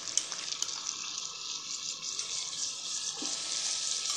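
Spiced yogurt mixed with salt, black pepper, white pepper, white cumin and coriander powder is poured into chicken white karahi, bringing a steady, close hiss and sizzle that swells slightly toward the end, with no talk.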